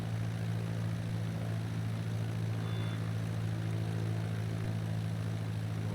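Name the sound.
light aircraft engine as the throttle is reduced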